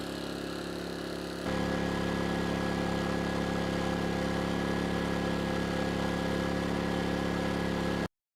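An ERAYAK 4500W dual-fuel inverter generator runs under light load during engine break-in, giving a steady, continuous engine drone with a constant hum that settles slightly louder after the first second and a half.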